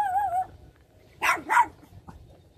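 At a flower-growing village, a dog gives a whiny yelp followed by two sharp, close barks, with quieter background noise in between.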